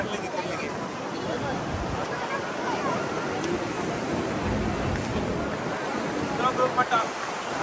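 Steady, loud rush of the fast-flowing river at Manikaran over rocks, a constant broadband roar filling the whole clip with no pauses.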